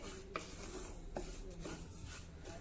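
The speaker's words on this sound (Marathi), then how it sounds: "आता अगदी मंद गॅसवर आपल्याला खमंग हे जवस भाजून घ्यायचं आहे" Flax seeds dry roast in a pan over a low flame, giving a faint, continuous scraping and rustling as they are stirred, with a few soft knocks of the spatula against the pan.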